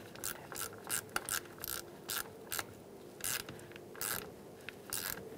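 Ratchet with an 8mm socket tightening the negative battery terminal on a 2000-2007 Ford Taurus, giving repeated short bursts of clicking in uneven strokes, close and fairly quiet with no talk.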